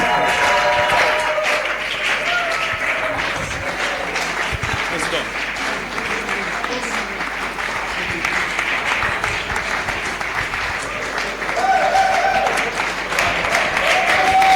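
A church congregation at a worship gathering breaks into sustained applause and cheering, loud and dense throughout, with voices and a tone mixed in beneath.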